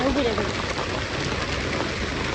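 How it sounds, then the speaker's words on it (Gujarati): Steady rain falls during the first monsoon downpour, a dense, even hiss of drops on surfaces holding at moderate loudness, with a brief voice at the very start. "આ રીતના કંઈક વરસાદ આવે છે"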